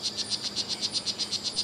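A strawberry poison dart frog (Oophaga pumilio) calls on Bastimentos Island, Panama, giving a rapid, even series of about a dozen high buzzy chirps, clear and alone.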